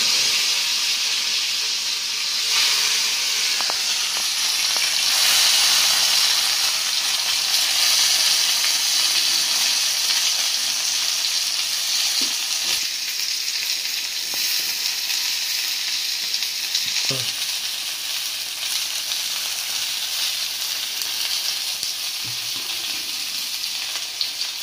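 Whole red okra fries in hot oil in a pan, giving a continuous loud sizzle and hiss that holds steady, with a few soft clinks and stirring bumps.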